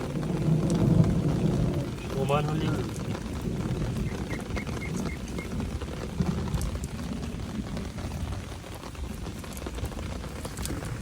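Rain falls by the Mathabhanga river as a continuous broad wash, with low rumbling and occasional louder patches, heard near and fairly loud.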